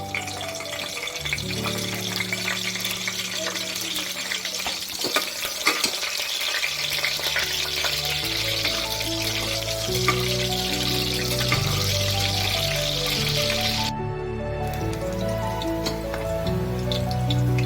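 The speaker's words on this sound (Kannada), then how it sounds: "ಇವಾಗ ಮೆಣಸಿನಕಾಯಿನ ಚೆನ್ನಾಗಿ ಫ್ರೈ ಮಾಡೋಣ." Green chillies frying in three spoons of hot oil for tomato rice, a steady crackling sizzle with stirring scrapes running throughout, close and fairly loud, with background music tones layered over it.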